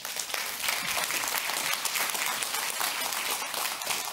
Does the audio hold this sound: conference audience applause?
yes